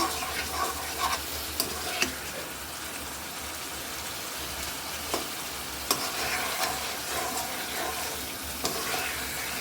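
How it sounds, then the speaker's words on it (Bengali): Fish heads frying with spices in a pan, a dense, steady sizzle close by, broken by occasional sharp clicks and scrapes of stirring throughout. "তার জন্য আমি মাথাগুলো নিয়ে একটু কষিয়ে নিচ্ছি মশলার সাথে।"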